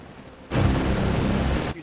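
Gunfire from the shooter video game Titanfall erupts as a loud, dense burst lasting just over a second, sharply starting and stopping between quieter moments.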